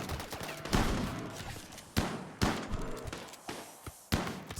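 Gunfire against a zombie horde in RimWorld, several sharp, loud shots and short volleys spaced irregularly, each cracking out and fading, with no talk over them.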